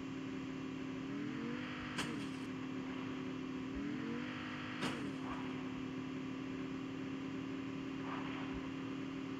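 A car engine in a video game hums steadily, rising in pitch twice as it briefly revs, with faint clicks and game sounds over the drone.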